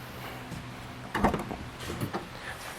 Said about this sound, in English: now you should be able to open up the back hatch